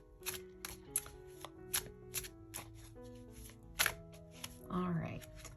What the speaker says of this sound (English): just give it a little shuffle and see what we pull